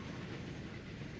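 Steam trains running in Transport Fever 2, a faint, low continuous rolling rumble with soft rail clatter, brief and distant.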